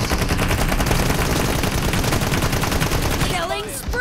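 Rapid, continuous automatic gunfire fills a video game team deathmatch, a dense loud stream of shots lasting about four seconds before it thins out, with no speech over it.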